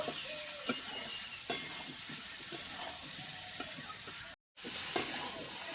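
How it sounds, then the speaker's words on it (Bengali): Taro and potato pieces fry with turmeric in a pan, a steady close sizzle punctuated by several sharp stirring scrapes, with a brief silent cut near the end. "হলুদ গুঁড়ো, দিয়ে খানিকক্ষণ কচু আর আলু ভেজে নেব।"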